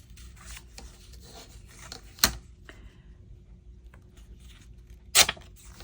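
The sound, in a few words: tearing and roughening paper edges for a journal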